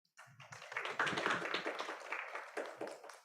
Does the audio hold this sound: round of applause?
yes